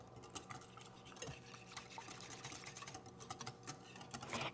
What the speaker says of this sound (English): I'm going to mix that and the pumpkin together